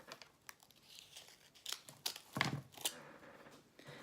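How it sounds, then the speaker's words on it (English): Scissors snip a plastic tag off artificial Dollar Tree flowers, giving a few short crinkly cuts and rustles close by, with one louder snip near the middle. "you want to cut off the tag"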